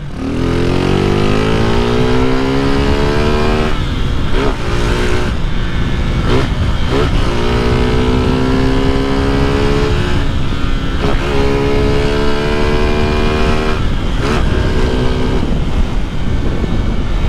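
A Honda CG motorcycle engine revs hard and repeatedly, its pitch climbing and dropping in rising sweeps, loud and close throughout, in city streets.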